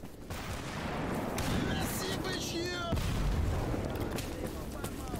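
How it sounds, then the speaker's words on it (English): A grenade blast goes off during a firefight in the video game S.T.A.L.K.E.R. Gamma, a loud booming burst set among rattling gunfire and sharp combat noise, with a second heavy impact a few seconds later. "Grenade!"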